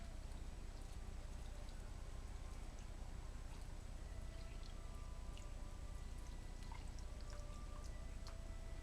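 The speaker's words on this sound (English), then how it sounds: "I submerge the whole thing into water." Steady water pours over a pot roast, rushing continuously at an even level, a soft splashing hiss with faint drips and no voices.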